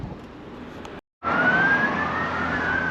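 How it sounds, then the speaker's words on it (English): An emergency vehicle siren wails steadily outdoors near a memorial walk in Newcastle, a sustained rising tone over traffic rumble with a brief dropout before it resumes louder. "As the sirens start up,"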